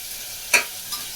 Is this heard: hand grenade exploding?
no